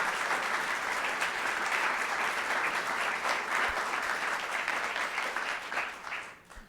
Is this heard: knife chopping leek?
no